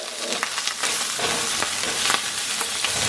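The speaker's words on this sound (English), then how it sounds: "so I'm just kind of browning them so they hold in all the flavor" Pre-cooked sausages seasoned with Old Bay browning in a pot for a crab boil, a steady close sizzle and crackle with occasional stirring clatter and no talking.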